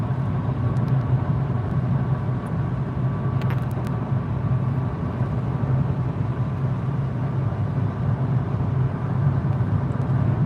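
Steady road roar from a car in motion fills the cabin, a constant low rumble and tire hiss with no breaks and no voices.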